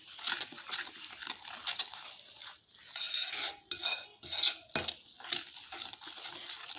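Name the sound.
stirring sweet pakora batter with sugar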